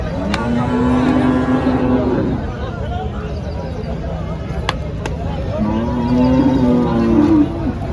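A Holstein Friesian cow lets out two long, low moos, one early and one near the end, close by, with background chatter and outdoor noise at a cattle market.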